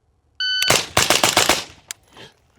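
A rapid burst of suppressed 5.56 rifle shots on a range, roughly seven quick cracks in close succession followed by a last lone shot, loud and near.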